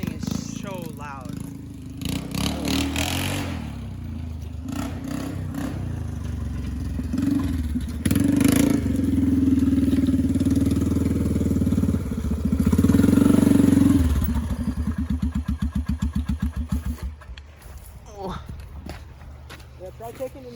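A 2001 Polaris Sportsman 400 2x4 quad engine runs loud and steady while riding on a trail, its low drone swelling twice to harder revs before settling into a rapid idle-like putter, with people talking over it.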